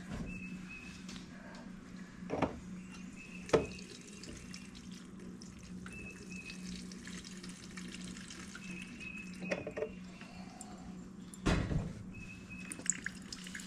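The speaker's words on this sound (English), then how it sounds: "So let's just dump a little bit of gas in there." Gasoline pouring and trickling through the carburetor of a Craftsman lawn mower, a faint steady liquid flow with occasional drips and small knocks close by.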